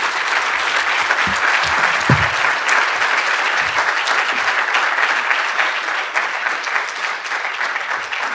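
Sustained applause from a large audience, steady and loud throughout with dense overlapping claps.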